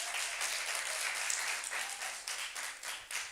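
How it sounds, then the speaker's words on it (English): Audience at a regional competition round claps in a brief burst of close, uneven applause with individual hand claps standing out. "Let's give him a round of applause once more."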